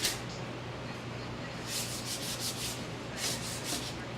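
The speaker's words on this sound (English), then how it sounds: "Now that I've sanded the chalk paint and added a little distress to the desk" Chalk paint on a desk being sanded by hand to distress it, a steady close-up rasping rub that swells into several louder back-and-forth strokes.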